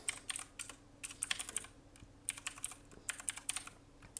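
Quiet, close typing on a computer keyboard while entering a name and student email into a mobile app signup, quick irregular bursts of keystrokes with brief pauses.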